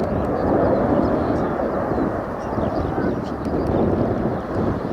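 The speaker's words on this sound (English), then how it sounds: "a fast and fly past aircraft to maintain 450 knots as it flies from left to right" Spanish Navy Harrier jet making a fast flypast at about 450 knots, moving left to right at an air display, heard as a loud, steady broadband jet roar that holds throughout with some wind buffeting.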